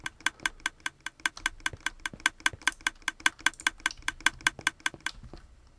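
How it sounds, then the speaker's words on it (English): A Minecraft mechanism clicks in a rapid, evenly spaced train of about two dozen sharp ticks. The ticks run steadily for five seconds and then stop, with no voices. "it shouldn't be clicking like that."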